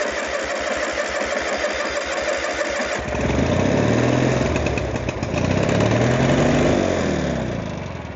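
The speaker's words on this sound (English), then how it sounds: "we got the starter working" Gravely PM300 Pro Master lawn mower engine cranks with a rapid starter chatter for about three seconds, then fires and runs loudly at a steady roar, close and continuous, with no talk.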